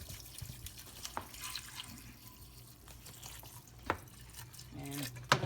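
Crystal Geyser spring water pours and trickles into a container to submerge and soak purple Irish moss, with scattered drips and light splashes. The sound is quiet and close, with a few sharper splashes near the end.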